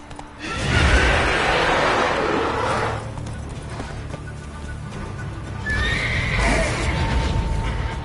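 Horse neighing loudly with clip-clop hoofbeats in The Witcher 3, a close, strong whinny, then galloping, then a second whinny near the end.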